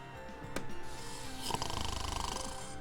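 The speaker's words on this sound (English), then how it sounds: "And snoring." Rhythmic snoring from a character in a video game plays as repeated rasping breaths in a steady loop, loud and close over a busy background of game sound, with no one talking.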